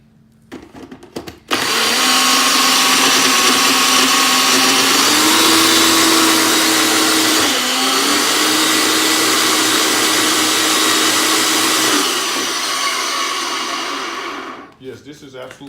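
A blender crushes ice for a caramel frappe. After a few clicks, the motor kicks in loud and close with a steady high whine and grinding roar for about thirteen seconds, its pitch shifting slightly, then winds down and stops.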